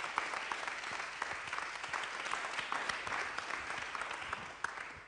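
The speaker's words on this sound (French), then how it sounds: "Et on peut les applaudir bien fort" An audience at a diversity round-table event applauds its partners with dense, steady clapping filling the room, fairly even in loudness and without talk over it.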